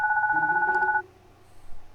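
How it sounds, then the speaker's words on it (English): A baby phone rings in the video game Goodbye Deponia, a single electronic two-tone chirp lasting about a second, clear and close, followed by quiet. "my baby phone's ringing."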